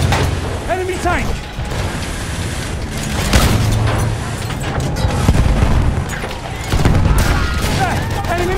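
Rapid machine gun fire and booming explosions fill a chaotic Battlefield 1 Operations battle around an armored train, a loud, steady barrage of overlapping shots and blasts with voices shouting over the din.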